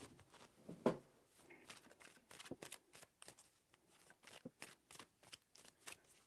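Tarot cards shuffled by hand at close range, a series of quick riffling and flicking bursts with brief pauses between them, soft and without talk.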